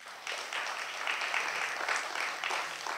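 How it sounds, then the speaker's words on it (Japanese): Moderate audience applause at a security summit, quieter at the start, then swelling into steady clapping from a conference hall crowd. "皆様大きな拍手でお願いいたします。"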